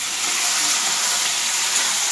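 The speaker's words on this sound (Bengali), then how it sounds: "এইবারে দেবো আমি এটাতে চিকেন।" Chicken frying in a pan with already-fried tomato and onion gives a loud, continuous hissing sizzle, even and close throughout with no speech.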